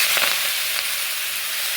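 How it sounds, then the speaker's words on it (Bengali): Ivy gourd leaves dropped into hot oil in a pan after frying shrimp, giving a loud, continuous hiss of sizzling heard up close with no talking. "এই তেলা কচু শাকটাকে এবার ভেজে নেব।"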